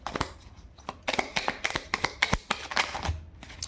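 Tarot cards being shuffled by hand in quick riffling bursts, a run of crisp close flutters and slaps with brief pauses between them, no talking.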